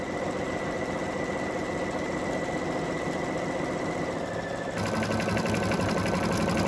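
A Brother Essence VM5200 embroidery machine stitches a letter, its needle running in a fast, even mechanical whir that is close and steady throughout, shifting to a slightly coarser, buzzier rhythm near the end.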